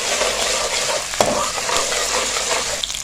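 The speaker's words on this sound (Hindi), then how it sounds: "थोड़ा सा हम इसको फ्राई करेंगे ताकि अदरक लहसुन का कच्चापन जो है ये ख़त्म हो जाए" Ginger and garlic sizzle in a hot pan, a dense steady frying hiss with a brief stirring scrape partway through, close and continuous, no voices.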